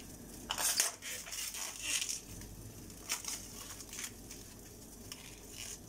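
Minced meat dropped into a hot pan and stirred, a quick burst of scraping and clatter followed by ongoing sizzling with occasional spoon scrapes, close and moderately loud, no speech.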